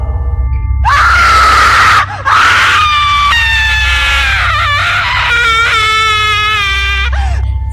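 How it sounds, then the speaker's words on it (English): A drawn-out, loud scream in a narrated horror story, rising and wavering through several breaths with a brief break near two seconds, over a steady low rumble. "a scream woke the girls up"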